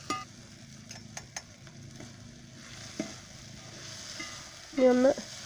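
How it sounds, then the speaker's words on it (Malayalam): Onions with salt and masala sautéing in a pan for a Kerala-style beef roast, a low, steady sizzle with a few sharp clinks of stirring, then a short louder scrape near the end. "അപ്പോൾ അതുകൂടെ ചേർത്ത് നല്ലതുപോലെ ഒന്ന് വഴറ്റി കൊടുക്കാം."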